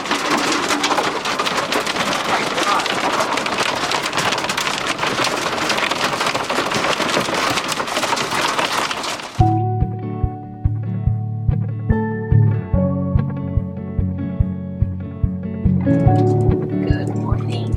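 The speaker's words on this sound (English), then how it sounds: "first big hailstorm in the van" Hail pounding the roof of a camper van during a big desert hailstorm, a dense, loud roar of impacts for about nine seconds that then cuts to quieter scattered drumming with a low tonal hum underneath.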